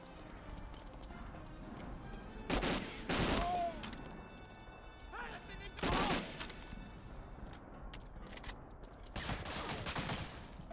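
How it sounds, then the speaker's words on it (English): Gunfire in the World War II shooter Medal of Honor Allied Assault comes in short, sharp bursts, distant to moderately near, with quieter footsteps and game sounds between them and someone speaking faintly. "People are shooting me through the floor. Or through the ceiling, as is my perspective."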